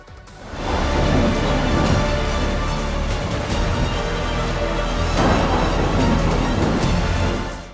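Heavy monsoon rain in northern India pours down in a dense, steady roar, loud and close, swelling in at the start and holding without pause.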